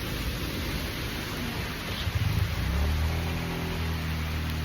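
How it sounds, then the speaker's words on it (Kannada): Sudden rain pours down outdoors where friends were playing a cricket match, a steady hiss of falling water throughout with a low rumble building toward the end. "ಸಡನ್ನಾಗಿ ಮಳೆ ಬಂದ್ಬಿಡ್ತು"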